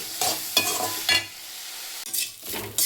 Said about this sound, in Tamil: இந்த நெய்யிலேயே தான் நல்லா ரோஸ்ட் ஆகணும்.